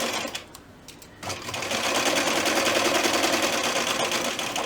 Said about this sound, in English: you're just sewing along the edge to make sure your holder stays together